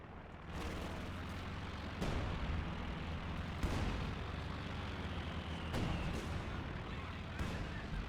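MG42 machine gun firing in Company of Heroes 2 amid a busy battle, loud continuous rattling bursts layered with heavier booming impacts every couple of seconds, dense and unbroken throughout.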